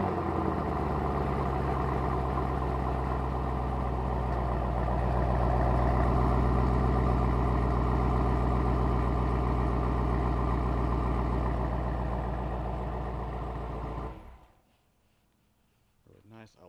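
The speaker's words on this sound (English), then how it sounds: "this is what the car sounds like. It's in track mode, so valves are wide open." A 2021 Chevrolet Camaro ZL1 1LE in track mode, exhaust valves wide open, idles with a loud, raspy, throbbing rumble close by for about fourteen seconds, then cuts off abruptly into near silence.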